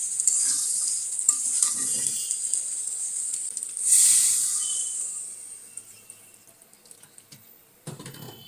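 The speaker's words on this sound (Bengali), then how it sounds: "অনেক সময় ধরে কষাইছি।" Country chicken and local potatoes being stir-fried in a pan, with a continuous high hiss and sizzle, occasional scraping stirs and a louder burst midway, heard up close without speech.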